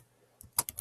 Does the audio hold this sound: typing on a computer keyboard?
yes